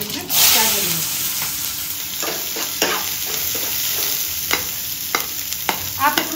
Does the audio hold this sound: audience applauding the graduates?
no